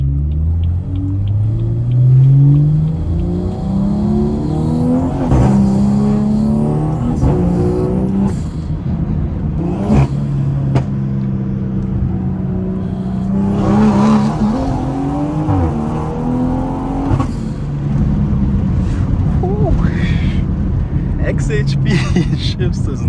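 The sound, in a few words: straight-piped BMW accelerating and shifting gears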